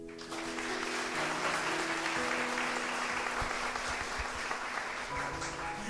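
A church congregation claps steadily during a Portuguese-language sermon, an even wash of applause at moderate distance that holds for several seconds without speech over it.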